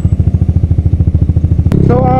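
Rusi Adventure X 150 motorcycle with an open pipe exhaust idling close by in a steady rapid thumping rhythm, then a quick rev as a voice starts talking over it.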